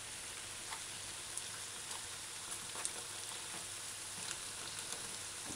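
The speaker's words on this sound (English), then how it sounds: "Look at your fritters. See how they're frying." Okra and codfish fritters frying in hot oil, giving a steady, soft, even crackle and sizzle throughout with faint scattered pops and no voices.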